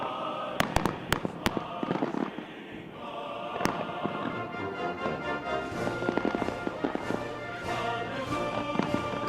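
Fourth of July fireworks going off outdoors: a rapid string of sharp cracks and bangs opens the scene, then scattered pops and rumbling bursts continue over a steady background din.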